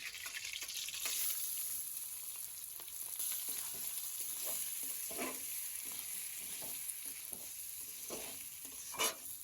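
Whole spices including cumin and bay leaf frying with rice in a pan for eel biryani, a soft continuous sizzle punctuated by scattered scraping stirs, close but fairly quiet, no talking.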